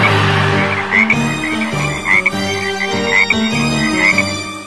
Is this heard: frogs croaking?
yes